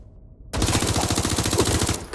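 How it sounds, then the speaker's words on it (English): Rapid automatic gunfire bursts out suddenly in the video game Watch Dogs: Legion, a dense loud rattle of shots lasting under two seconds after a quiet start. "Suspects open fire!"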